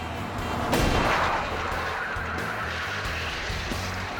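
Full-speed movie-style car crash test involving a green car, heard as one loud broadband impact boom followed by a long rumbling, scraping decay with no voices.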